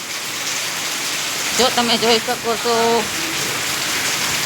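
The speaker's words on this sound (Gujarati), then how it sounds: "વરસાદ બહુ સારો થઈ ગયો છે" Heavy rain pours down outside a house in a steady, dense hiss throughout, with a person speaking briefly over it.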